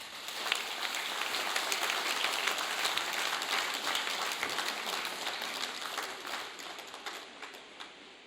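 A crowd at an abolition of slavery commemoration ceremony applauds the adult winner of a slam competition, with sustained, dense clapping that stays even and moderately loud before tapering slightly at the end.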